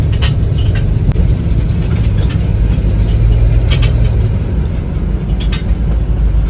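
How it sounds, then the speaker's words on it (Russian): An old car heard from inside while driving, a steady loud low rumble of engine and road noise with faint rattles and creaks throughout, no talk. "Извините за шум, это у меня машина скрипит, старенькая"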